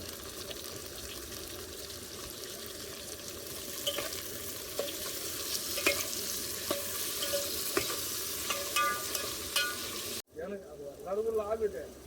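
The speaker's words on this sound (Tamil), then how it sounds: "வெங்காயம் வதக்கியாச்சு நெக்ஸ்ட்டு தக்காளி" Onions and tomato fry in a pan, a steady sizzle broken by light scrapes and taps of a spatula, and a voice briefly speaks at the very end.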